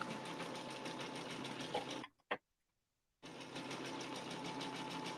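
A Sketch quilting machine stitching over a quilt seam makes a steady, fast mechanical whir that stops abruptly for about a second after a click and then starts up again, close and even.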